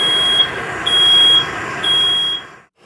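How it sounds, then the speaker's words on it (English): A smoke alarm sounds during pipe soldering on a traditional heating system's feed pipe: loud, shrill, repeated electronic beeps in bursts over a hissy room background, cutting off at the end. "There's the good old smoke alarm going off as I finish off this feed pipe connection."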